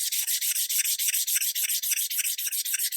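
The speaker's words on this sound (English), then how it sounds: "I can do that quickly by just sanding this surface" Rapid, steady back-and-forth sanding of a blue foam block, a bright scratchy rasp repeating about every quarter second, close and continuous with no talking.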